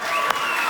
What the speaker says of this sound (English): Let's give Jacob a round of applause